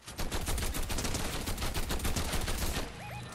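Rapid automatic gunfire in the video game Fortnite, a dense burst of shots sustained for about three seconds at fairly low level, with a faint electronic chirp near the end.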